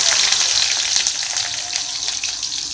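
Onions hit hot oil in a pan and fry with a loud, bright crackling sizzle that settles slightly over a few seconds.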